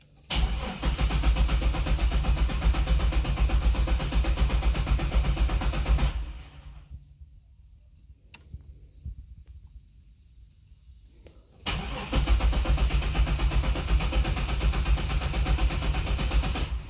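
A Pontiac Grand Prix engine cranks and fires, running loud and steady for about six seconds, falls quiet for several seconds, then roars back to a loud steady run.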